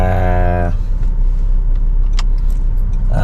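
A multicab vehicle parked at a Petron gas station in Calamba, Laguna, with a loud, steady engine rumble close by, a tonal whine in the first moments, and faint clinks over the continuous drone.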